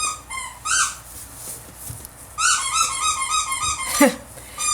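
A dog chews a squeaky toy, which squeaks repeatedly in short, close bursts, with a rubbery chewing rhythm between squeaks.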